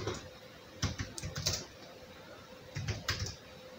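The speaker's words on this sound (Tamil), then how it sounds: "இந்த மாதிரி நம்ம டைப் பண்ணலாம்" Keys on a computer keyboard clatter in two short quiet bursts of rapid taps separated by a pause, close to the microphone with no speech.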